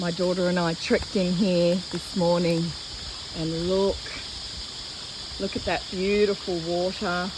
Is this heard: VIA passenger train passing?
no